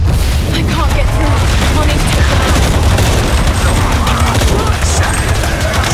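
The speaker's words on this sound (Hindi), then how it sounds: "मिसाइल उससे टैंक से हमला कर रहा है" Loud, dense barrage of booming blasts and gunfire from a tank firing missiles in Shadow of the Tomb Raider, continuous and rumbling throughout with battle clatter layered over it.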